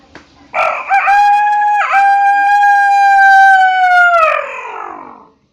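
A person's voice imitates a rooster crowing: one long, loud, drawn-out cock-a-doodle-doo with a wavering start that fades off at the end.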